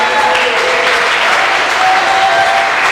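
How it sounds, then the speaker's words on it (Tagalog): A church congregation at a Sunday service gives loud, sustained applause, a dense even roar of many hands clapping close and continuous throughout. "Yung malakas na palakpak sa Panginoon"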